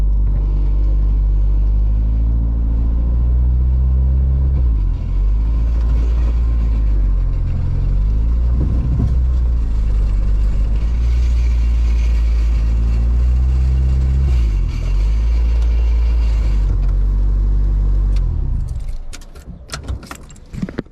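A Honda car with a B18C1 GSR engine and refreshed transmission drives up a steep driveway, a loud close low engine drone rising and falling with throttle, ending in a few clinks and rattles as it settles.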